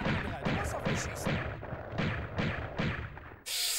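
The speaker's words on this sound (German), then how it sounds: "Du schießt auf mich, Puppe, ha?" Enemy gunfire in the PS1 Tomb Raider game: a rapid series of sharp, loud shots in an uneven rhythm, about eight bursts over a few seconds, ending in a brief hiss.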